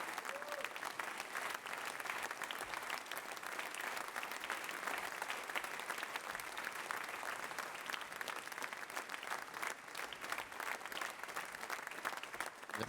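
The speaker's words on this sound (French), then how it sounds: "Applaudissez Laurent." Sustained audience applause fills the room at the launch of the 10th Odyssée des entrepreneurs, dense steady clapping for Laurent holding evenly throughout without a break.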